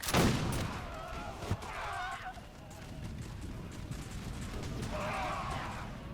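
Musket volleys and scattered gunfire in the Napoleonic battle game Napoleon Total War, a few sharp cracks over a steady battlefield din while someone talks throughout.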